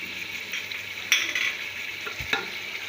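Ginger garlic paste sizzles in a hot pan with tomatoes and potatoes for chana pulao, stirred with steady scraping and a few sharp utensil knocks over continuous frying hiss, close and without speech.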